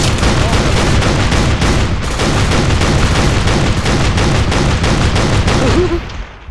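Rapid gunfire rattles through a co-op mission of the military shooter Operation Flashpoint: Dragon Rising, a dense, loud stream of repeated shots with no pauses for about six seconds before it cuts off.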